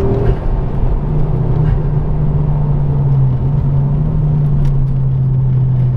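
A Ford Focus RS Mk2 hot hatch drives along with a steady, loud low engine drone and road rumble, the engine note holding nearly constant as it cruises.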